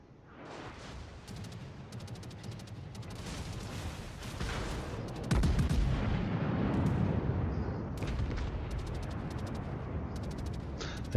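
Main guns of a Bayern battleship firing in World of Warships, ranked battle: repeated heavy booms and crackling gunfire, with a louder, deeper blast near the middle and continuous rumbling battle noise throughout.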